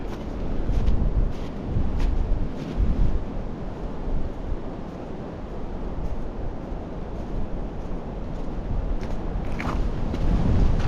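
Strong gusting wind on a snowy mountain pass roars steadily and buffets the microphone, loud and continuous with no voices.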